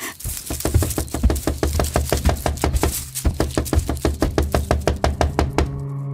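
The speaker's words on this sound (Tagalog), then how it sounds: "May kumakatok sa bintana ko isang gabi." Rapid, steady knocking on a window at night, dozens of sharp raps in a continuous loud rhythm for about six seconds before stopping, set as an eerie sound effect in a Filipino aswang horror story.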